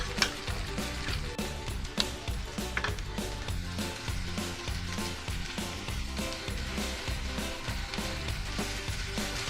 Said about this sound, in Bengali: সুন্দরভাবে এটাকে কষিয়ে নিতে হবে যতক্ষণ না পর্যন্ত মশলা থেকে তেলটা ছাড়ছে